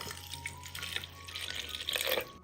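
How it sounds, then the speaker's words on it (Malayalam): Cold water pours into lemon juice in a container, a soft continuous splashing trickle, quiet and close, with no talk. "നല്ല തണുത്ത വെള്ളമാണ് ഞാനിവിടെ എടുത്തിട്ടുള്ളത് രണ്ട് കപ്പ് വെള്ളം ഇതിലേക്ക് ഒഴിച്ചു കൊടുക്കാം"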